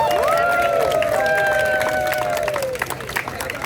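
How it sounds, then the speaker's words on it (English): Outdoor crowd applause and cheering at an Earth Day climate rally in Palo Alto, dense clapping under a sustained whistle-like tone, thinning toward the end. "Everyone give yourselves a big round of applause."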